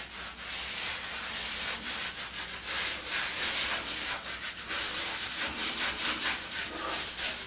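A OneBlade Core razor shaves and exfoliates skin, giving a continuous close, loud rasping scrape with uneven strokes and no voices.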